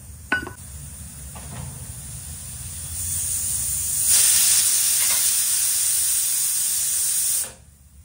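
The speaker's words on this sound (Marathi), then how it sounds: "या कुकरला जरा जास्त शिट्ट्या लागतात." A pressure cooker lets out a steady, loud high-pitched steam whistle that builds and holds for several seconds before cutting off abruptly, with a few faint knocks early on.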